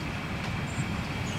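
A train in Switzerland pulls away from a deserted rural station, its steady low rumble and soft rolling rail noise heard from inside at moderate level, without speech.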